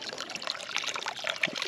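A small amount of water sloshes and splashes inside a plastic jug as it is shaken to rinse it, a busy close wet churning over the short span.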